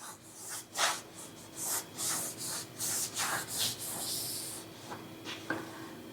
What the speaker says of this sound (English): Here's like some dirt that you can see on our side of the cabinet. So we'll just scrub it off.